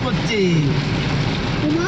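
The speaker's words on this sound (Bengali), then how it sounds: "দেখো মুসলধারে বৃষ্টি" Steady torrential downpour hisses loudly and evenly throughout, with a faint tonal whine drifting underneath.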